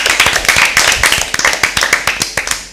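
Enthusiastic applause for team A at a Bible quiz show, a close, brisk burst of many hands clapping in quick rhythm for just under three seconds, fading slightly at the end.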